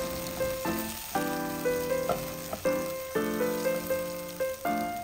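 Onion sautéing with garlic in hot oil, a steady close sizzle broken by repeated stirring bursts as the pan is worked, with no talking over it.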